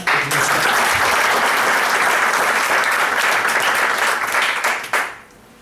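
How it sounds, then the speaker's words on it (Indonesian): An audience at a company gathering breaks into loud, sustained applause that holds steady for about five seconds. It then fades quickly into near silence at the end. "Tepuk tangan ya."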